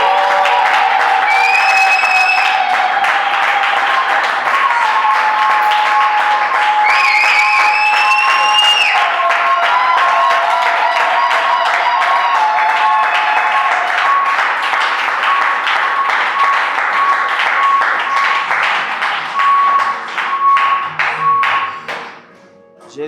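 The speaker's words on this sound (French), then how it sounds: "Acclame encore bien pour le Seigneur." A church congregation applauding and cheering for the Lord, loud continuous clapping with whistles and shouts sustained throughout, fading into scattered claps at the end.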